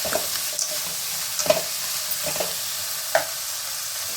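Raw peas and capsicum being stir-fried in a pan for shavige bath, giving a soft continuous sizzle broken by a few sharp spatula scrapes and taps, with no voices.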